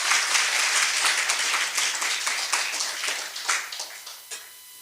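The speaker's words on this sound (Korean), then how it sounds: "여러분 큰 박수로 부탁드리겠습니다." Audience applause at a drug-prevention center opening ceremony in Busan, a broad wash of many people clapping that holds steady, then thins and fades toward the end.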